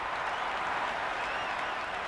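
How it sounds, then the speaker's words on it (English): Steady crowd roar and applause from a cricket stadium in the video game Cricket 26, a loud unbroken wash of noise with no breaks. "Will you listen to that crowd? They are loving this."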